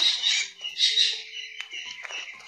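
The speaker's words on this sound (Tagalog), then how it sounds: "Oh, nagbalabog yung ibon." Birds squawk in harsh, scratchy bursts close by, several calls overlapping in quick succession with brief chirps between.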